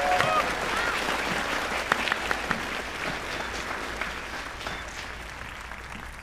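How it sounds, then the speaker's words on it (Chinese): Audience applause at an awards ceremony for a game-design competition, dense steady clapping from a crowd that slowly fades a little. "掌声有请"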